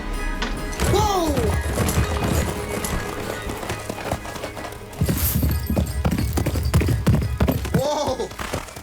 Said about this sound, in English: That's a horse. That is a horse.